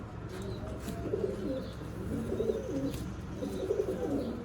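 Teddy pigeons coo in repeated low rumbling phrases, about three rounds of soft throaty calls close by, with no talking.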